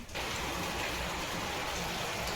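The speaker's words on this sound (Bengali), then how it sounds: "কেমন বৃষ্টি হচ্ছে একভাবে বৃষ্টি হয়েই চলেছে" Heavy rain pours steadily in a dense, even hiss, close and continuous with no voices over it.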